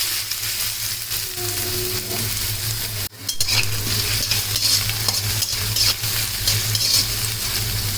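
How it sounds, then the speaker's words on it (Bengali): Chopped onions fry in hot soybean oil with a loud, continuous sizzle, broken by a brief drop when they are added, then ongoing hissing and stirring scrapes in the pan. "এখন তেলটা গরম হয়ে গেছে, এখন দেবো পেঁয়াজ।"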